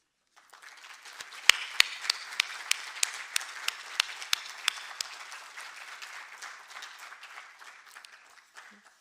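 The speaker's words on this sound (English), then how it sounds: "if maybe the QMD team can just stand up, that we can give them a warm round of applause." A small audience at a university institutional audit closing gives a warm round of applause for the quality team, moderate clapping with a few sharp, distinct nearby claps standing out, fading at the end.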